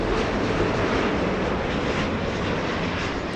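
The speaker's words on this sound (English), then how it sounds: "It's the plane that sounds like a train." A Max Air cargo plane takes off at Los Angeles International Airport, its engines giving a loud, steady, broadband roar with a rumbling, train-like quality that holds for the whole stretch, with no voices over it.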